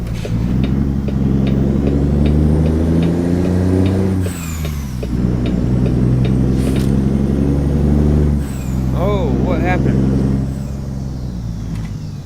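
A truck fitted with loud glass-pack and cherry-bomb style exhaust rumbles nearby with a deep, throbbing engine note that swells and eases through several revs. Brief hissing and squeaks show up near the end.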